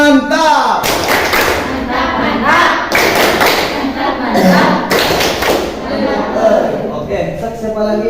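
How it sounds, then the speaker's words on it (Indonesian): A school class claps together in a rhythmic pattern, loud hand-slaps and thuds landing in regular groups with voices chanting along. "Ya, tepuk tangan untuk mantap dulu buat Ayu tuh."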